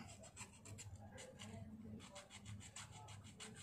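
Quick back-and-forth rasping strokes of a sandpaper file on nails during a pedicure, rhythmic and very quiet.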